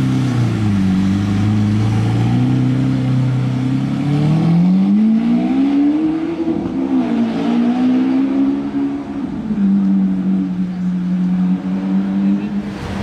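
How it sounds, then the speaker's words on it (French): A first-generation supercar with a Capristo exhaust accelerates through the streets of Monaco, a loud, close engine roar rising and falling in pitch with revving, traffic noise behind it and no clear talk. "première génération, mais échappement Capristo qui fait vraiment beaucoup de bruit"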